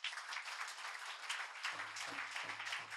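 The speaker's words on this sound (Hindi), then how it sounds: "जोर से एक बार ताली बजाओ" A church congregation claps hands together in a dense, sustained burst of applause, loud and continuous, with a low murmur of voices rising toward the end.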